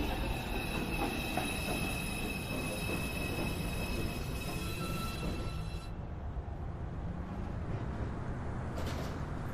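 A Manhattan-bound 2 subway train rolls into Beverly Road station with steady loud rumble, high wheel squeal and a sustained tonal whine, the roar easing after about six seconds as it slows.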